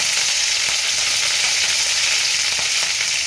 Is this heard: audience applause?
no